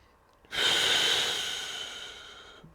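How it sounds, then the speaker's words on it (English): Slow, steady breaths during a pre-run warmup: one long, full breath heard close and alone, starting with a sharp onset and gradually fading over a couple of seconds. "Full, long, steady inhales. Complete exhales to find belly muscles."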